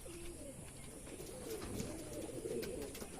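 Pigeons on a rooftop coo softly and repeatedly while waiting to be fed, a low steady murmur of overlapping calls at moderate distance with light background hiss.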